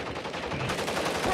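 Dense, rapid gunfire rattles continuously from a shooter video game battle, sustained bursts layered over each other with no pause across the short moment.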